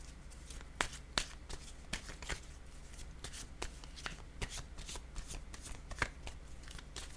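Tarot cards shuffled and handled close up: a soft papery rustle runs throughout, broken by sharp riffling snaps and flicks at uneven intervals, with no talk.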